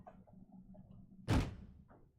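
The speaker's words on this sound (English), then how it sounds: "I slammed my fist into the door with a loud bang" A fist slams once into a door in a visual novel game, a single loud, close thump standing out over a quiet, murmuring background.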